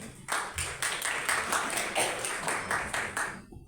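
Sustained crowd applause fills a hotel launch event for the Elite World Sapanca hotel and residence, a dense steady clatter of many hands lasting a few seconds before cutting off.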